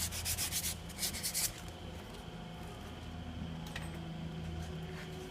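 A part from a Cub Cadet lawn tractor frame is sanded down during an engine swap, giving quick rough scrubbing strokes at first that give way to a steady, faint rubbing hum.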